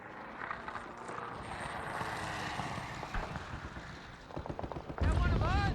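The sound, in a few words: plane in trouble in the video game Call of Duty 2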